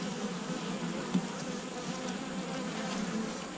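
Honeybees buzz at an open hive during hive maintenance, a steady close drone of many wings that holds level throughout with no voices.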